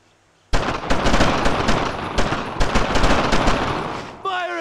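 Sustained machine gun fire in the Brothers in Arms: Road to Hill 30 video game, a loud, dense burst of rapid rattling shots lasting several seconds before cutting off abruptly.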